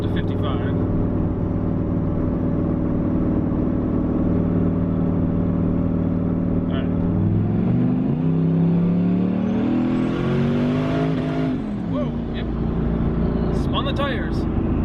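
A street truck engine with heavily boosted turbo setup hums steadily while cruising on the road, rising in pitch mid-way as it accelerates, with someone talking over the drone throughout.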